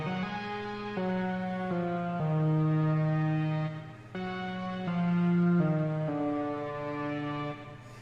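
Synth melody from an analog preset with reverb and utility effects, from a remastered theme: sustained, slightly dissonant tones gliding between notes in two matching phrases, steady and clear with no voices.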